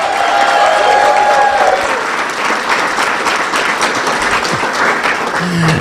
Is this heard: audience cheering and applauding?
yes